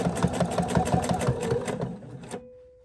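A sewing machine backstitches around a fabric baby chick, a close, rapid mechanical chatter that runs for about two seconds and then cuts off abruptly.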